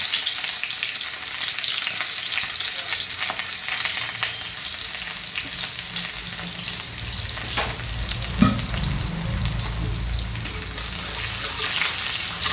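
Chopped onion and garlic frying in hot oil with five-spice, a dense continuous close sizzle with stirring scrapes and a couple of sharp clinks of the utensil against the pan.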